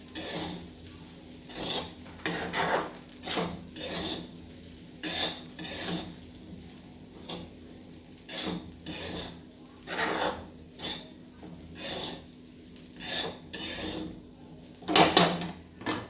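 Sabudana khichdi with half a lemon's juice squeezed in gets stirred in a pot, a spoon scraping and clinking against the metal in repeated bursts across the whole stretch, close and fairly loud with short quiet gaps between strokes.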